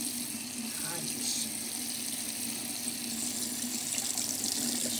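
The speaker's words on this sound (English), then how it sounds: "now I am gonna go wash my hands" Tap water runs steadily into a sink for hand washing with warm water, a continuous hissing stream heard close and alone, no talk over it.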